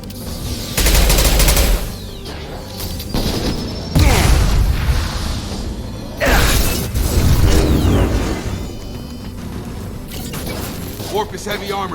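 A blast cannon fires in the Mass Effect 2 video game, several heavy booming explosions with rumbling tails amid gunfire, while a player talks over the action.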